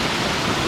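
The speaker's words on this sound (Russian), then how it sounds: "И вот такой напор воды до сих пор сбегает с гор." Floodwater rushes down from the mountains in a strong, dense roar after heavy downpours, a loud continuous broadband wash close to the listener with no voices over it.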